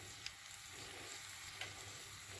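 Koshari sautés with salt and cumin in a single pot, giving a quiet, steady sizzle with a couple of faint scraping stirs.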